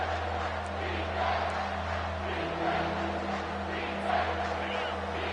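A home crowd at a college football game roars steadily through a third-down defensive stand, a sustained, far-off wash of stadium noise with no clear peaks.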